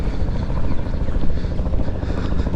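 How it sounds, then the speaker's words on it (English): GPH helicopter flying in over the water at high tide on a Monday morning exercise, a loud steady rotor thrum and engine roar holding throughout with no talk. "Here's the GPH helicopter coming on in."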